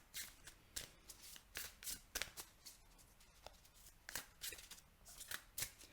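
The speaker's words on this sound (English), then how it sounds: "I feel like I've been shuffling for forever." Tarot cards are shuffled close by, in bursts of sharp papery riffles and flicks separated by brief pauses, soft overall, with no talking.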